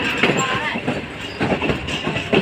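The Pak Business Express passenger train rolls along the rails near Kotri Junction, a steady rumble with rhythmic wheel clatter, with someone talking over it.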